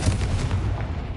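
A Confringo blasting spell explodes in Hogwarts Legacy: a dense, loud, rumbling boom that fills the short moment and fades slightly at the end.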